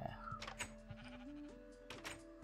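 A pink sheep in Minecraft gives its game bleat, a short wavering baa, over a steady low background tone with soft taps and clicks.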